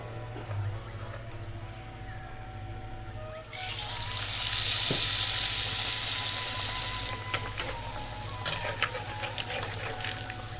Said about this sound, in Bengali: এবার খালি স্যান্ডউইচগুলো ডুবিয়ে ভাজতে হবে।